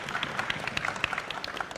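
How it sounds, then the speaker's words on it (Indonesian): Faint, distant applause from a crowd at a presidential candidates' debate, a brief patter of many hands clapping together. "Kita berikan tepuk tangan buat calon presiden 2024"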